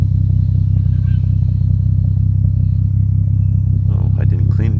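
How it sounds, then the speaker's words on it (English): Toyota Supra mk3 idling with a deep, steady rumbling exhaust note held low and constant throughout, close to the tailpipe, with a voice briefly talking near the end. "I know you guys want to hear the exhaust"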